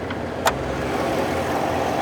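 A Cadillac Escalade's 6.2L V8 idles with a deep, steady rumble and airy intake breathing, heard close and continuous with a single short click near the start.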